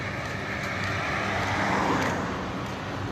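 Traffic on the Dhaka–Sylhet highway at Bhatpara Bazar in Narsingdi in the early morning: a steady, broad roar of passing vehicles, close and continuous, with no talk.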